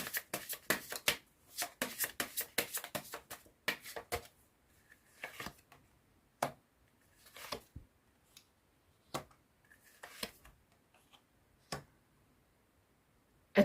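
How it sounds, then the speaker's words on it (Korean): Tarot cards are shuffled and drawn in short, crisp riffling bursts and soft slaps. Quick clusters open the sequence, followed by scattered single flicks and pauses, all close and quiet. "조언점 카드 뽑아보도록 할게요"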